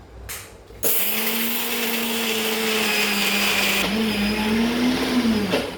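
An electric mixer grinder whirs loudly as it grinds kadala chutney, starting abruptly after a brief quiet moment and holding a steady motor hum whose pitch dips and rises slightly before cutting off.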